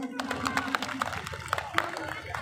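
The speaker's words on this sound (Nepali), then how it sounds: "सबैजनाले जोरदार ताली बजाइदिनु होला प्लिज" An audience at a live stage show at the Tulsipur festival claps for a singer. Sharp, irregular handclaps sound over a sustained voice or tone, with the clapping fairly close and moderately loud.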